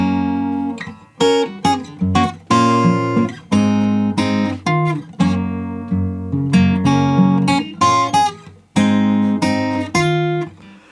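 A guitar plays a full line from a song, a steady run of strummed chords and plucked notes, loud and close, with short breaks between phrases.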